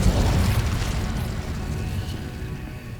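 A fire spell is cast in the video game Hogwarts Legacy, giving a loud, close burst of booming, crackling flame that fades steadily over about three seconds.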